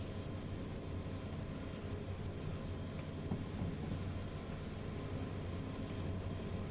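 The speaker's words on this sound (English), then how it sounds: "I have a full kilometer of train dragging behind me" A kilometer-long freight train rolling slowly under 30 kph in Derail Valley, a faint, steady low rumble of rail cars and machinery with a soft hiss, continuous and unvarying with no voices.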